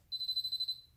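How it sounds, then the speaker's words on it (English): A rapid, high-pitched electronic alarm from a Futaba RC remote beeps in a quick pulsing burst for under a second, clear and close. "Left stick down, back to the middle to disable the alarm."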